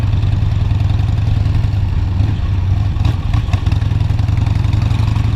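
A Harley motorcycle engine idles loudly and steadily up close, with a deep throbbing rumble and some mechanical rattle, uninterrupted throughout.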